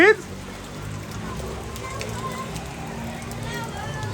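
Steady, even hiss of heavy monsoon rain falling outdoors during a village flood, moderately loud and continuous, with a few faint splashes standing out.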